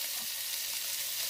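Food fries in a covered pan for a Taiwanese Lunar New Year dish, giving a steady, dense sizzle at moderate loudness with no voices.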